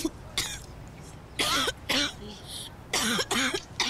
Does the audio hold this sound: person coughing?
yes